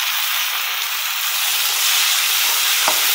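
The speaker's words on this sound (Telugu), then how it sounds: "ఇప్పుడు మనం చింతపండు, తర్వాత టమాటాలు కూడా వేసేద్దాం." Loud, steady frying sizzle from a pan as tamarind and tomatoes go into hot oil, with a brief sharper hiss near the end as the ingredients hit the pan; no talking.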